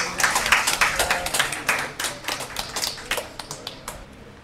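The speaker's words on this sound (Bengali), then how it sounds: "সবাই আমরা করতালি দেই" Close, crisp clapping from a small crowd at a BURO Bangladesh honouring ceremony for founding members and staff in Pathrail, a steady patter of hand claps that slowly thins and fades toward the end, with no talking.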